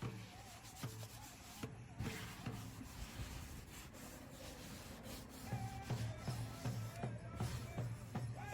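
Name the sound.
sanding wood for a memorial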